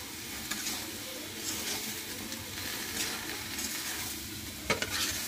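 Onion, chili and spices fry in a village kitchen pan for a bitter gourd dish, a soft continuous sizzle under steady stirring and scraping, close but quiet, with no voices.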